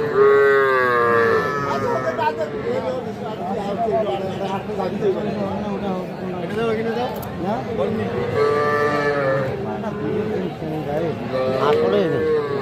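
Cattle, young bulls and calves moo repeatedly at a livestock market, several loud close calls rising over a crowd of people talking throughout.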